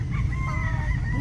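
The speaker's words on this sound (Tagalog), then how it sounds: "puro puti manok nila" White chickens cluck and a rooster crows nearby at a San Diego café, loud and close over outdoor background noise.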